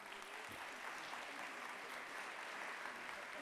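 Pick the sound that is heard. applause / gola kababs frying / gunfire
applause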